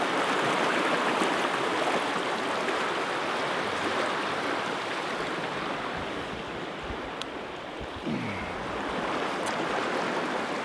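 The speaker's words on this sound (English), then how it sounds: "But here's the river." A cold river rushes steadily at Big Bend National Park, a continuous broadband wash of flowing water heard close and loud with no voices over it.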